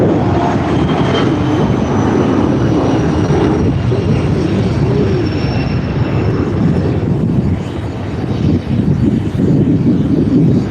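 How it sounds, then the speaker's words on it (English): Airplanes landing and taking off at an airport, a continuous loud roaring jet engine rumble that dips briefly near the end before swelling again, with no voices. "a better spot to watch these planes land and take off."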